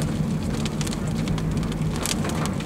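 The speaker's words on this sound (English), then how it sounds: "now I'm starting to get the leading edge of the rain." Rain from the leading edge of a severe thunderstorm in Pratt County, Kansas, pelting steadily on surfaces amid strong gusty wind, with a constant hiss, scattered sharp drop impacts and a low rumbling undertone.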